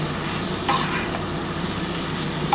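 Spice paste stir-fried in a pan for a vegetarian potato, papaya and soybean curry, a dense steady sizzle broken by two sharp spoon clinks against the pan, close and without talk.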